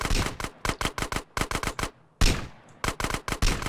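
Close, loud gunfire in MTA San Andreas DayZ plays as rapid automatic bursts of sharp cracks, then a brief pause, one heavier blast and another quick run of shots.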